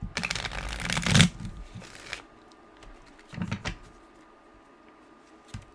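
A deck of tarot cards is shuffled up close, a dense riffling burst followed by a second shorter flurry and a few soft taps, with no talk.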